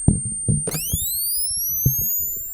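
A high-pitched electronic whine rises steadily in pitch after a click, with soft low thumps and knocks around it.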